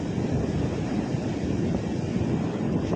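Sea waves roll onto Kelshi beach on the Konkan coast, a steady broadband surf roar mixed with wind buffeting the microphone, constant and close with no voices.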